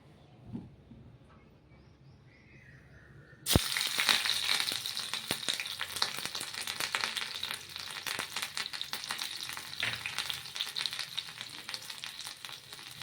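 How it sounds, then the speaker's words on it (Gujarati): Green chillies dropped into hot oil for tempering: after a quiet moment, a sudden loud burst of sizzling that settles into steady crackling frying. "તેલ આપણું ગરમ થઈ ગયું છે સૌપ્રથમ આપણે મરચાં એડ કરશું"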